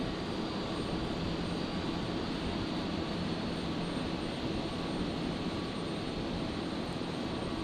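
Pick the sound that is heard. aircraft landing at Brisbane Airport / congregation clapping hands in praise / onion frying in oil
aircraft landing at Brisbane Airport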